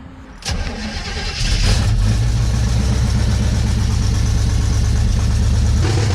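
A Firebird's engine cranks and catches, then settles into a loud, rough, rumbling idle with a raspy, sputtering exhaust tone from an exhaust leak throughout.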